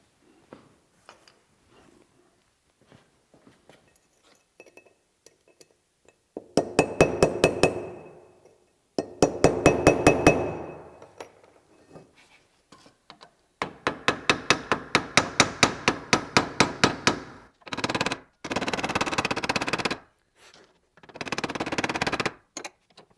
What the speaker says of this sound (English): Let's try a cold chisel.